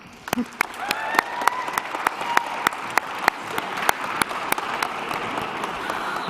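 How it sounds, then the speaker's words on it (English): An awards-ceremony audience applauds a singer about to lead the national anthem a cappella, a dense, steady clapping with crisp individual claps popping out close by throughout. "I would like you please to give a round of applause for Danae"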